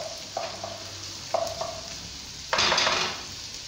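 Onions fry until golden in a pan for farofa, a soft continuous sizzle punctuated by a few clinks of a utensil against the pan and a louder burst of stirring near the end.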